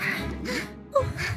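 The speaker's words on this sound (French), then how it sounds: "Des canards!" Ducks quack in short bursts, a few nasal calls close by with brief pauses between them, no talking.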